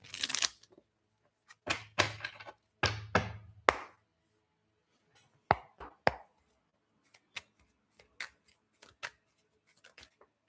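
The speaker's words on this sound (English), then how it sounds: "One more shuffle here." Tarot cards are shuffled in a few quick riffling bursts, followed by scattered light taps and soft clicks in a quiet room.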